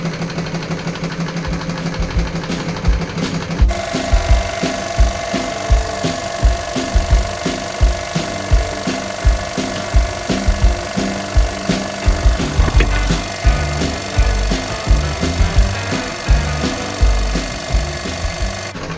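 A Techsew 5100 industrial sewing machine runs loud and close while winding a bobbin, a rhythmic mechanical chugging with repeated thumping beats and a steady motor whine, no voices.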